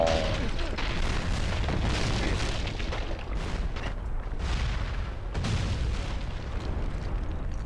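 A bomb explodes in the video game Shadow of the Colossus, a loud, rumbling boom that fills the scene with dense low roar and sustained debris noise, swelling again midway.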